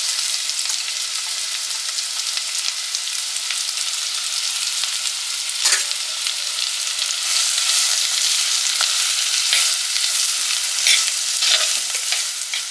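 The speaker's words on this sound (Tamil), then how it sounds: "இப்போ வந்து வெங்காயம் ஆட் பண்ணிக்கலாம்." Chopped onions frying in oil with cumin produce a loud, dense, close-up sizzle that holds steady throughout, with occasional stirring scrapes.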